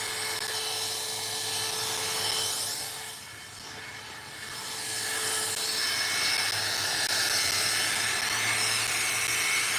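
Chainsaw carving wood, with a steady loud engine whine running throughout that dips briefly around the middle before returning at full strength, with no talk.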